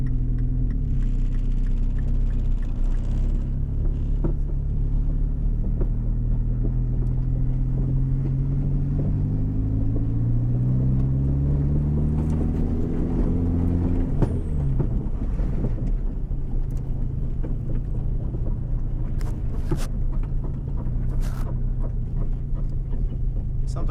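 An all-wheel-drive Mini Cooper with a swapped DSM 4g63 engine accelerates hard down a straight, its loud engine note rising in pitch through a gear change, heard from inside the car with heavy wind buffeting.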